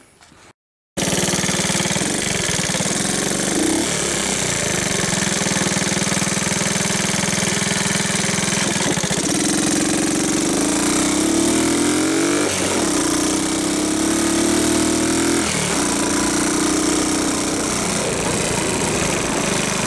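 A 1972 Honda 70 motorcycle engine fires up after a brief pause and runs continuously at a loud, steady, close idle, with a few small rises and dips in revs.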